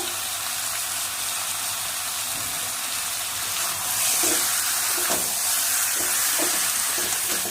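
Chicken sautéing in a pan for a Bengali chicken kasha, a steady close sizzle and fry with stirring scrapes and clinks throughout, louder in the second half, with no talking.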